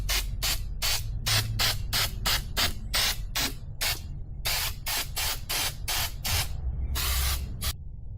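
Short aerosol bursts of Fluid Film rust protection sprayed onto the metal frame and underside of a Porsche Cayenne Turbo, about fifteen close, loud hissing blasts in quick rhythm with a longer burst near the end.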